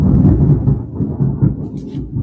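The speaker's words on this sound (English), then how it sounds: "as thunder strikes here in Pennsylvania" Thunder over Pennsylvania rolls as a loud, continuous low rumble, swelling and easing in waves across the whole stretch with no clear single crack.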